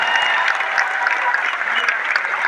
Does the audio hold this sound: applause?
yes